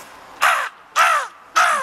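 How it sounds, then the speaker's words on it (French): A crow caws three times in a spring morning setting, loud harsh calls evenly spaced, close and alone against a quiet background. "La corneille."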